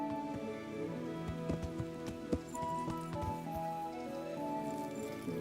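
Horse hooves clip-clop at a steady walking pace in the medieval video game Kingdom Come: Deliverance, sounding close and fairly clear over a soft ambient bed, with no talk.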